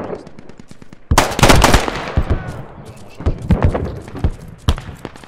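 Bursts of automatic gunfire ring out in the military shooter Squad, loud and close, with rapid volleys followed by scattered single shots and short bursts.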